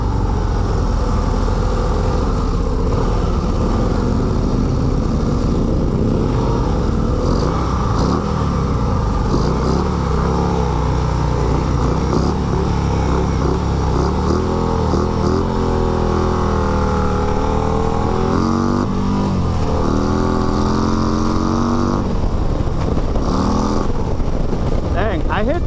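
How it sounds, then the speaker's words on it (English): A 2024 Harley-Davidson Road Glide ST bagger motorcycle accelerates hard on a ride, its engine note rising and dropping through repeated revs toward the limiter, loud and continuous with wind noise throughout. "I hit the rev limiter on this bike so blast easy, especially in first"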